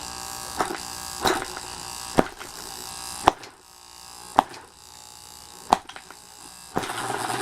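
A homemade open-source AC magnet motor with a spark gap runs with a steady electric buzz and hum, broken by loud sharp crackling snaps and pops at irregular intervals.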